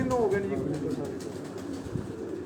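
Soft, low pigeon cooing from a rooftop runs steadily under someone talking, with a constant hum of background noise.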